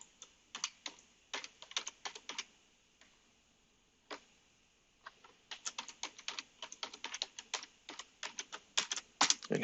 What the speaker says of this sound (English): hit enter, and then my password.